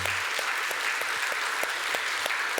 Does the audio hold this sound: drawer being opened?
no